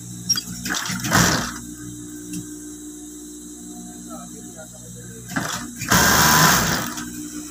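A sewing machine runs in two bursts of stitching, a fast whirring rattle that starts, stops and starts again, with a steady hum and a voice in between.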